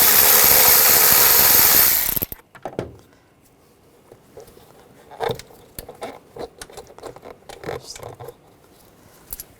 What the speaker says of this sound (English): Using a T30 socket, we're going to take the screws out.